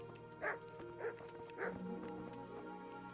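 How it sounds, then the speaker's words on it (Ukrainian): In the video game Kingdom Come Deliverance, a dog barks three times in quick succession close by, then goes quiet over a soft steady background hum. "Пес."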